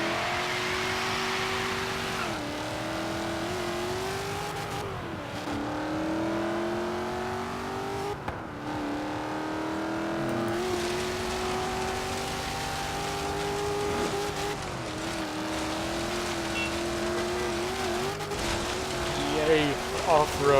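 A Holden Commodore's engine revving and shifting in the racing game Forza Horizon 3, a steady droning tone that climbs in pitch and drops at each gear change, continuous under occasional talk.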